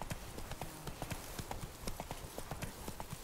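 Roach, Geralt's armored horse in The Witcher 3: Blood and Wine, trots along with a steady, brisk clip-clop of hooves, close and even, with faint background ambience.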